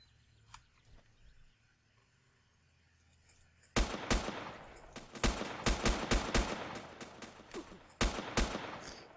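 Gunfire from the survival video game Next Day Survival: after a quiet stretch with faint birds and insects, a rapid burst of loud sharp shots rings out, followed by several more spaced volleys, close and punchy.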